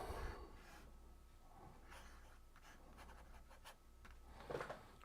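A fountain pen scratches across paper while a signature is written, a faint, close scribbling of short strokes in a quiet room.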